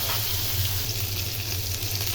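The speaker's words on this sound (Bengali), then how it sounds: "এই যে মাছটা আমার ভাজা হয়ে গেছে, এখন আমি মাছটাকে নামিয়ে নেব।" Rohu fish frying in a pan over a cooking fire, a steady close sizzle with constant crackle and a low hum underneath, no talking.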